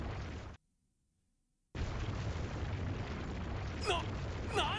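A loud, rumbling dynamite blast in the video game Trails to Azure erupts after a brief silence, followed by sustained roaring debris and crackling, with a couple of sharp swooping effects near the end.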